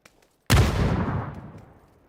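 A grenade launched in the battle royale game PUBG: one sudden loud burst after near silence, decaying into a rumbling tail over about a second and a half.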